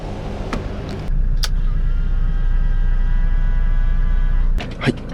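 A used 13-year-old camper van drives off an expressway, its engine and road noise a steady close rumble that swells after a brief pause, with faint clicks near the start and a short thump near the end.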